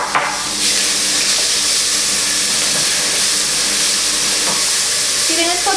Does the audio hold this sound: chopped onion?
yes